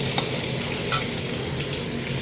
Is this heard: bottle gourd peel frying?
yes